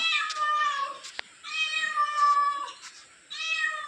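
A cat meows repeatedly nearby, three or four drawn-out, tonal cries separated by short pauses, with no other sounds around.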